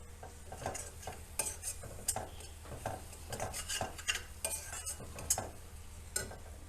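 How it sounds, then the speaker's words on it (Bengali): Spices being stirred and fried in a pan for masala paneer: repeated scraping strokes of a utensil against the pan in an uneven rhythm over a low, steady sizzle, close and moderately loud, with no talking. "এগুলোকে দিয়ে ভালো করে আমি নাড়তে থাকবো। মশলাগুলো ভালো করে কষিয়ে নেব।"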